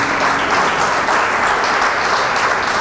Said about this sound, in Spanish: Den un fuerte aplauso al Espíritu de Dios